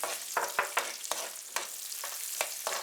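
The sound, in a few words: green chilies, cashews and raisins sizzling in a pan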